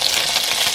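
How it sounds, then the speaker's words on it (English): Lamb and onion pot stickers sizzling in a lidded pan after steaming, a bright steady crackling hiss close up and fairly loud, with no voices. "Hear the sizzling"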